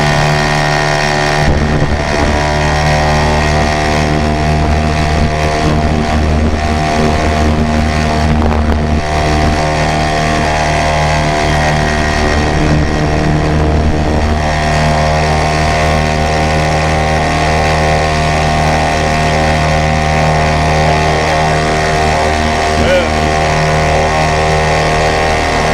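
A 2 HP Johnson Sea Horse outboard motor runs on the water, its loud, steady, buzzing drone holding close and constant throughout with some wind noise on the microphone and no talking.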